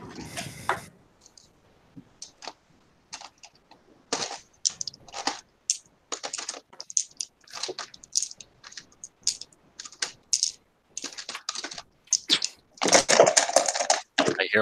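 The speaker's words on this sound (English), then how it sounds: "I hear more dice." Dice rolled during a tabletop role-playing session, a rapid run of hard clicks and clattering tumbles in uneven bursts, close and fairly loud, with a dense cluster of rattling near the end.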